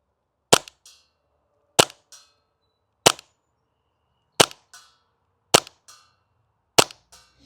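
Novritsch SSP28 split-slide airsoft pistol firing six sharp snapping shots at steady intervals of roughly a second, each followed by a faint clack, close and loud with no talk.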